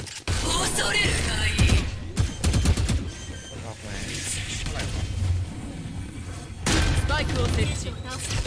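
Gunfire in the video game Valorant, dense bursts of rapid shots and impacts, loud and close, mixed with excited talking from players.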